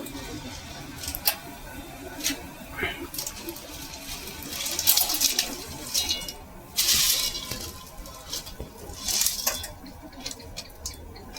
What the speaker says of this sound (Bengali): এই দেখুন জলটা ফুট ধরে গেছে, এবার চাউমিনটা দিয়ে দেবো।